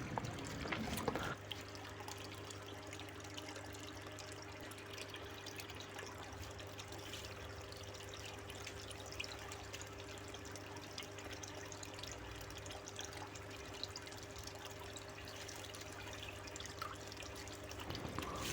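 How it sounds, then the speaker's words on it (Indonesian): A small water pump running in a catfish tank in a recirculating home setup, with a steady low hum and gentle continuous trickling and dripping of water, close and quiet, with no talk. "Oh ya, pompa airnya kita hidupkan dulu."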